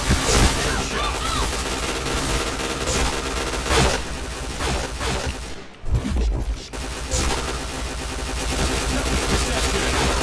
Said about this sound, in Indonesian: enak kali si gangster tuh nembakin orang di situ